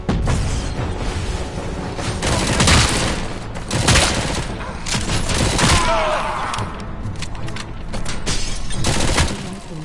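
Micro SMG gunfire in the video game RoboCop: Rogue City, loud sustained automatic bursts with booming impacts and mechanical clatter, rising and falling in intensity across the stretch.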